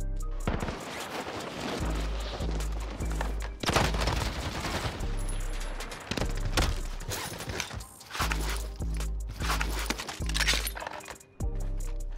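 MP5 submachine gun with a 10mm 30-round magazine firing in the game Warzone: rapid automatic bursts crack out again and again over a low rumbling game soundscape, loud and close, with brief gaps between volleys.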